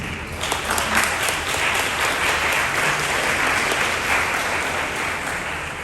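Sustained applause from an audience at a 2022 commencement ceremony for the Learning Unlimited school, steady and dense clapping filling the whole stretch at even loudness.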